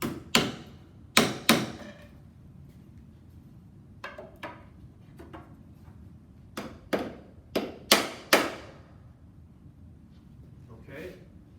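A wood piece for a three-way chamfer joint is tacked in place with a series of sharp, close taps and knocks in irregular clusters, some quick doubles, with quiet gaps and faint room tone between them.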